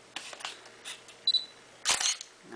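A Canon 500D/T1i DSLR fitted with a BG-E5 battery grip: a short faint beep as the grip's shutter button is half-pressed to focus, then a single crisp shutter release clack, close and quiet in an otherwise silent room.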